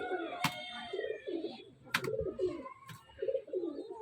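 Soft, repeated coos from Fulsira pigeons at a pigeon sale murmur in low bursts across the clip, with a few sharp clicks and rustles close by.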